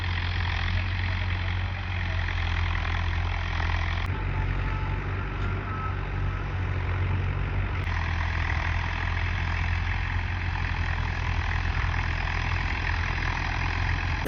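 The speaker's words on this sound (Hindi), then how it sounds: "फिलहाल तो मैं चला रहा हूँ, हल चला रहा हूँ" A tractor engine drones steadily while plowing a field, its deep continuous rumble close and loud with an even, unbroken tone and no voices over it.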